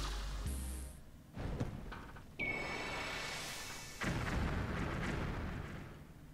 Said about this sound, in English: That explosion was rather anticlimactic.